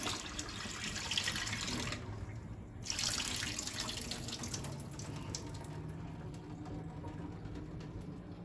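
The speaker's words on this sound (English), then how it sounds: "So just run some cold water on it just like that" Steady cold water from a tap splashing and rushing continuously over vegetables, with a brief dip partway through before the flow resumes, close by with no talking.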